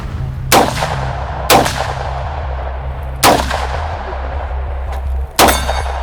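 Rifle shots at an outdoor shooting challenge in Myrtle Beach, South Carolina: four loud, sharp reports spaced about a second apart, each followed by a ringing metallic clang of steel targets over a steady low background hum.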